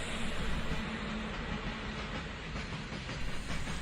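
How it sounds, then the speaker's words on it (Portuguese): A train runs steadily along the rails with a dense, continuous rumble and rhythmic clatter, even and unbroken, with no voices over it. "O trem continua o seu ritmo."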